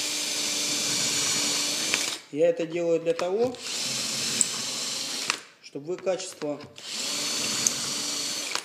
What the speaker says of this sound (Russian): Итак, я сейчас попробую все-таки несколько там отверстий сделать.